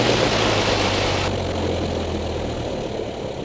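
A small propeller aircraft engine drops to idle during a pre-flight run-up, a steady droning rumble close by that softens slightly partway through, with no talking.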